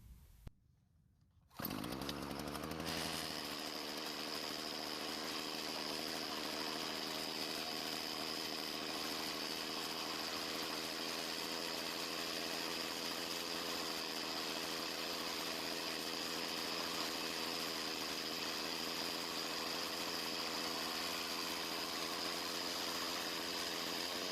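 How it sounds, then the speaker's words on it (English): A Poulan pole saw's small two-stroke engine catches after a brief quiet moment, then idles steadily and loudly for over twenty seconds, a constant buzzing drone with no voices. "it's best if we empty the fuel tank and then run it dry before putting it up"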